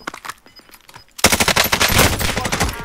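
Call of Duty: Black Ops Cold War gunfire begins as a few scattered distant shots, then a loud rapid burst of automatic fire, dense and close, fills the rest of the clip.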